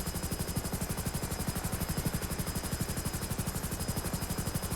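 A coast guard rescue helicopter in the video game GTA 5 thumps with a steady, rapid rotor chop. The chop holds close and constant throughout over a continuous engine whine, with no talk.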